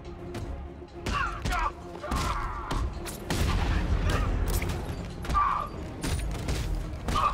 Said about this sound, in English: I threw some grenades.